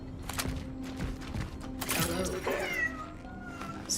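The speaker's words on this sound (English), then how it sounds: "if the sound of a cat means it's safe in here" A cat meows in the horror game Cronos: The New Dawn, a couple of short, mid-loud meows set against faint mechanical clatter, with no talking.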